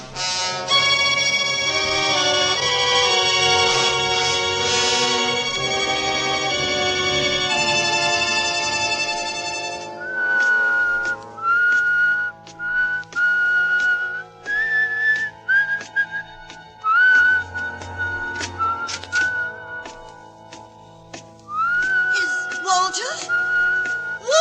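A man whistles a lilting tune, clear and close, in short melodic phrases with pauses between them, following a stretch of orchestral music at the start.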